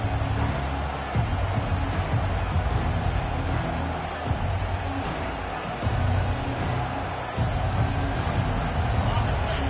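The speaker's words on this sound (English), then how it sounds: "This crowd, full throat, splitting the eardrums and letting them know it's going to be a long day." A football stadium crowd roars loudly and continuously, a dense wall of cheering and babble with a few surges in intensity.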